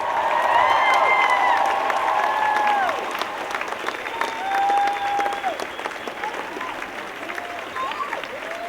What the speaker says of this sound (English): another big round of applause for the Same Sky Project